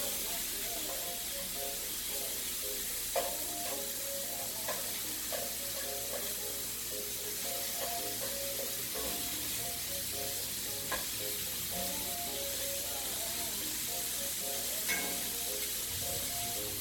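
Shrimp cooking in a skillet for street tacos give a steady, even sizzle throughout, with scattered light taps and scrapes of stirring and a faint low hum beneath, no talking.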